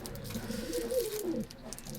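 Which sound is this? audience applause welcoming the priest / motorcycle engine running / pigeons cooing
pigeons cooing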